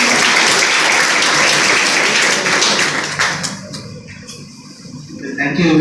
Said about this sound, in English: A big round of applause to sir